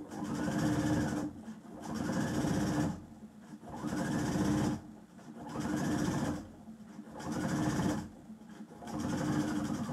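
A sewing machine stitches a line along an apron pocket in six loud, even bursts of fast whirring, each lasting about a second and separated by short pauses, close by with no talking.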